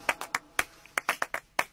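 Flamenco-style palmas in a rumba track, about ten crisp, bright handclaps in a syncopated pattern, close and distinct with short gaps between them, heard alone.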